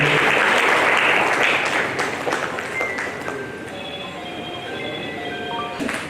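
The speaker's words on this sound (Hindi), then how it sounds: "तालियों के साथ स्वागत होना चाहिए" A ceremony audience in Kanpur honouring descendants of revolutionaries breaks into loud, dense applause that tapers off after a couple of seconds, leaving scattered claps and bright ringing electronic tones behind.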